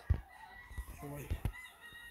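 Fighting rooster gives a short, faint crow with a few clucking bursts, close and quiet, with speech nearby.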